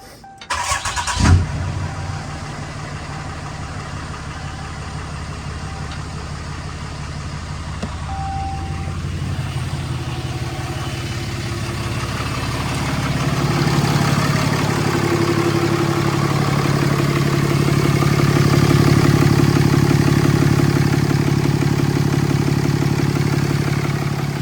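A Cummins 6.7 diesel truck engine fitted with a budget aftermarket air intake cranks and catches with a sharp burst, then settles into a loud, steady, rumbling idle that builds slightly louder later on. No voices.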